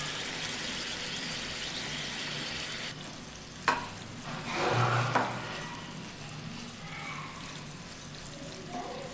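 Spinach rice gets stirred in a pan, a quiet frying sizzle under a few scraping strokes and one brief louder clatter, close and faint overall.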